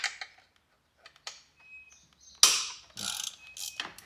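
A ratchet loosens a headlight bolt on a Honda TRX450R ATV, giving short clicking bursts with pauses between them, close and fairly loud, followed by a louder metallic rasp near the end.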